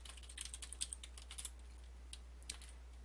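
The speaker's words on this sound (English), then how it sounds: "I'm just going to type a few simple lines." Quiet clicking of fingers typing on a computer keyboard while entering lines of Python code, with irregular light keystrokes over a low steady hum.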